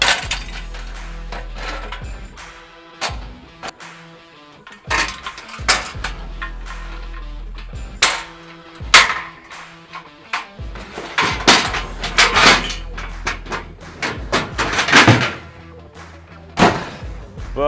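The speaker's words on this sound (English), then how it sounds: "And throw these ramps in there real quick." Loading ramps for a Can-Am are tossed into a truck bed, giving a string of loud clattering bangs, thumps and scrapes spread over several seconds, with no talking.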